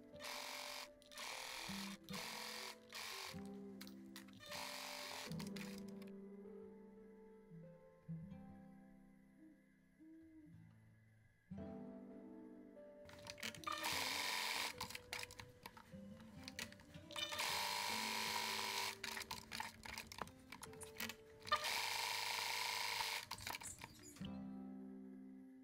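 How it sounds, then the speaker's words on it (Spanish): A sewing machine zigzag-stitches a sleeve seam on a bolero jacket, running in bursts of fast mechanical whirring broken by short pauses, fairly close and steady. "voy a darle un zigzag para que no se deshilache"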